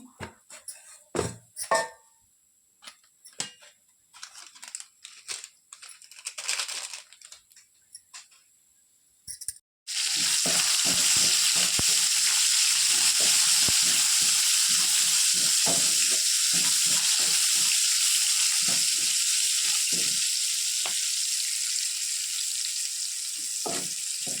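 Mustard seeds, cumin, split chana dal, roasted gram, dried red chilies and curry leaves hit hot oil for a tempering in a spinach-tomato curry, bursting into a loud, steady sizzle after a few sparse ticks and clatters.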